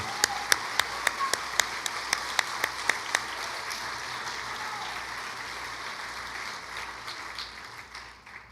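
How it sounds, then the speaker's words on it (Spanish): Congregation applause at a Sunday church service: a run of evenly spaced, loud rhythmic claps over a bed of general clapping, then the beat fades into scattered applause that slowly tapers off. "porque merece todo nuestro aplauso"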